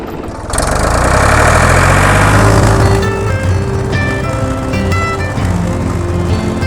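A four-wheeler ATV engine starts up and runs at a loud, steady idle close by, with a rough low rumble that settles down, and a tonal melody begins playing over it partway through.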